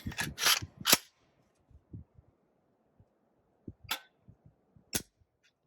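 The trigger of a Springfield Armory Saint Victor rifle with a nickel boron coated flat GI trigger, giving a quick burst of sharp mechanical clicks followed by a few spaced, softer single clicks close to the ear in a quiet setting.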